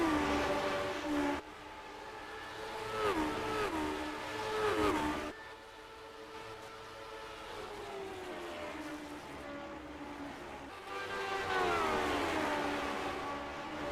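Race car engines at New Hampshire Motor Speedway during a Dewar's 150 round, loud harmonic whines sweeping in pitch as cars pass, with sudden cuts and rising engine roars.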